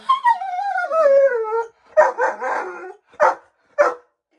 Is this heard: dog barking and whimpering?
yes